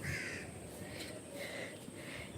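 A crow on a neighbouring rooftop caws a few times at a distance, faint harsh calls rising over a steady outdoor hum.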